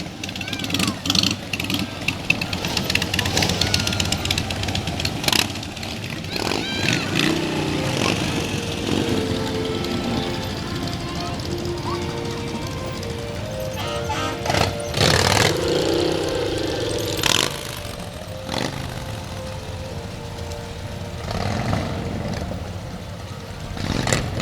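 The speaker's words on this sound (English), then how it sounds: "Hear them engines roar." Motorcycles riding in a Veterans Day parade, engines rumbling and revving at varying distances with louder passes, mixed with crowd noise and a commentator talking over them throughout.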